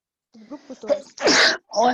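A single loud sneeze bursts out during a presenter's talk in an online webinar, followed by a short vocal sound; speech is heard just before it.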